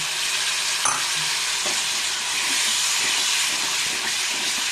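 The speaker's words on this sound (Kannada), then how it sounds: "ಈಗ ನಾನು ಹುಣಸೆ ರಸ ಹಾಕ್ತೀನಿ" Thick tamarind juice poured into frying bitter gourd sets off a loud, continuous sizzle and hiss, with a few soft scraping knocks from stirring underneath.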